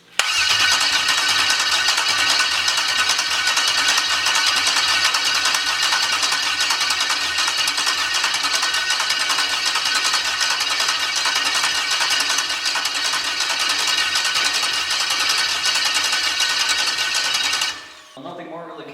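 An engine is cranked on the starter without firing, a long loud steady whirring drone for about eighteen seconds before it cuts off, followed by quieter background.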